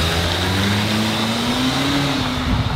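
A car revving as someone drives off in it, a steady loud engine drone with a slowly rising pitch, alone without voices.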